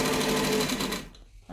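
A cylinder arm sewing machine fitted with a walking foot stitches sticky vinyl for a business bag, running in a steady, rapid mechanical rattle for about a second before it abruptly stops.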